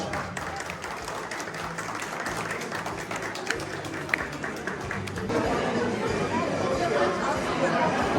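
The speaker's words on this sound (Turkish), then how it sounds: "Alkışlarımız güzel çiftimize geliyor" Wedding guests applauding the bride and groom at a celebration in Germany, scattered clapping amid chatter that swells into louder, fuller applause partway through, with voices talking underneath.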